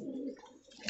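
Pigeons in a cage give a soft, low cooing call, close and faint, with a brief rustle at the end.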